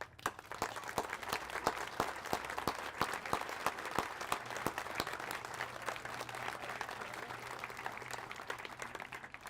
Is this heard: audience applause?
yes